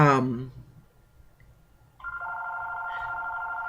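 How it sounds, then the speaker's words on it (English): A telephone rings with a steady electronic tone that starts partway through and continues, following a brief moment of voice at the start. "seems like every time I get to record, the phone rings, right?"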